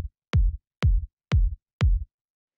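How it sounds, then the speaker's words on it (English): Soft, round melodic house kick drum hits four times at an even pace, each a short punchy thump with deep low-end body and a quick decay, alone with no other sounds. "After that, we have the kick,"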